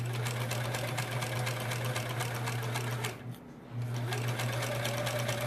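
A sewing machine hums in a fast, steady run while piecing half square triangles for a quilt block, pausing briefly in the middle before starting up again; close and loud, with no talking.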